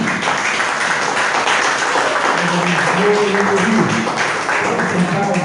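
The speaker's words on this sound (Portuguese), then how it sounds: "Aplauda Jesus" Congregation applauding during a church service, a steady wash of clapping with a sustained sung or played tone and voices mixed in underneath.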